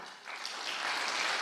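Audience applause swells gently, a dense patter of many clapping hands that grows slightly louder over a brief stretch, with no voices on top.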